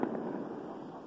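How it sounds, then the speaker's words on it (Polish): Firecrackers go off outdoors on a snowy winter street, a dense crackling spray of pops heard from a distance and blending into a steady rough hiss. "proszę, petardy"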